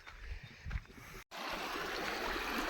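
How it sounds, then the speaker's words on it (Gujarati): Water runs steadily through an irrigation channel on a village farm, a close, even broadband rush that drops out for a moment and then continues at a constant level. "એક ધારું સતત પાણી ચાલુ છે"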